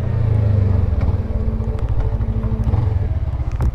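A Suzuki GSX 250 R motorcycle's engine hums steadily with a low, buzzing drone that rises slightly as the throttle opens, heard up close and fairly loud with faint mechanical ticking on top.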